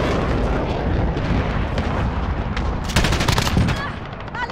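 PKM light machine gun firing in Modern Warfare, sustained loud bursts of rapid automatic fire with a heavier volley near the end, under game ambience.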